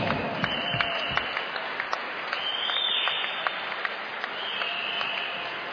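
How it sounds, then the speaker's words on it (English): Boxing crowd applauding the runner-up as he leaves the ring after a knockout, steady broad clapping with scattered louder claps and cheers, heard from a distance at moderate level. "can I please ask you to keep that round of applause going for our gallant runner-up as he leaves the ring, Martin Shaw."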